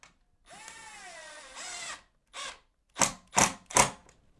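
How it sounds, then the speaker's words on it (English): A cordless drill driving two screws into an aluminium LED profile on a staircase, a whining run that rises and then holds, followed by several short sharp bursts close by. "What we're going to do is get this profile screwed into place"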